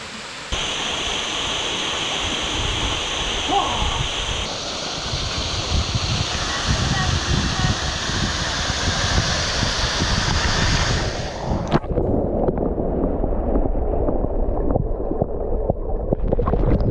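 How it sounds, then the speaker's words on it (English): Whorneyside Force waterfall in the Lake District pours in a steady, broad rushing roar that fills the whole span, with a brief high tone layered over it during the first part and a slight change in character near the end. "I'm going to showcase a bit of this waterfall"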